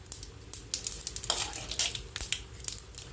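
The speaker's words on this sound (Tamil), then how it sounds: "கடுகு வெடிக்கட்டும்." Rapid crackling and popping as mustard seeds splutter in hot oil in a kadai, a dense, irregular burst of small pops close by.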